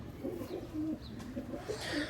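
Teddy pigeons coo in soft, low, repeated rolling calls at close range, several overlapping over a quiet background.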